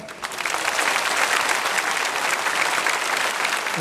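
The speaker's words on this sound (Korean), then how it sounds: "일어나서 인사하실 때 환영의 박수를 드리겠습니다" Steady audience applause in a Korean church service as guests, including politicians, rise during a Sunday worship service; dense clapping sustained and loud throughout, with no talk.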